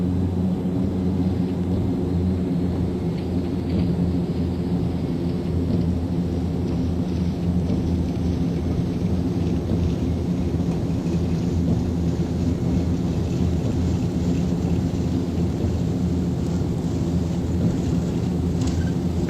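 Heavy rain and rolling thunder from a thunderstorm fill the cabin of a Fokker 50 turboprop during takeoff from San Jose, a dense, steady roar mixed with the deep drone of the engines, with no voices.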